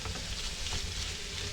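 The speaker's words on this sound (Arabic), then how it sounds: "ونروح قلبين عليها البانيه على طول، ونقلب عشان انا مش عايزه البصله تستوي قوي" Sliced onion sizzles and fries in a pan while being stirred, a steady close crackling hiss with soft scraping, no voices over it.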